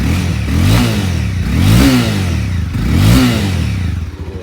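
Cold 2018 Honda CBR300R motorcycle engine revved close up in three short rhythmic blips, each rising and falling in pitch over a steady idle.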